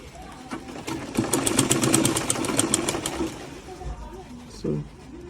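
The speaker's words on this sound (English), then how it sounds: "So the machine has climbed on the fabric as I am fixing that zip" A sewing machine stitches a plastic zipper onto light fabric, giving a fast rhythmic run of needle clatter for about two seconds that then stops, followed by quieter handling noises.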